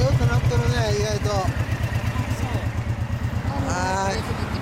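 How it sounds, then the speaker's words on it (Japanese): A 1994 Harley-Davidson Dyna with a 1340 engine idles close by, a loud, steady low loping thump with a clattering beat, while people talk over it. "エンジン音聞かせてもらえますか。"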